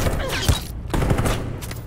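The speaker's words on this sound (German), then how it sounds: "Schießen auf Unschuldige, Unbewaffnete." Gunfire rings out at unarmed protesters during a freedom march in Detroit: Become Human, loud repeated bursts of shots spread across the moment, with a voice faintly underneath.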